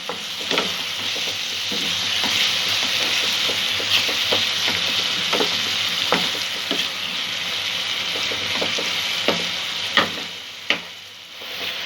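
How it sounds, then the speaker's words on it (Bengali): Tomato and spice masala for a peas and paneer pulao fries in a pan, giving a steady close sizzle broken by repeated spatula strokes and scrapes, with a couple of sharper knocks near the end. "মশলাটা যাতে ভালোভাবে কষা হয়। টমেটোটা আর একটু সফট করে দেবো।"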